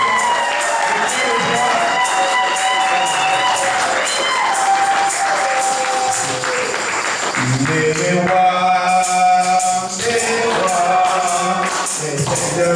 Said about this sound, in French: montrons comment que nous avons la joie en acclamant très fort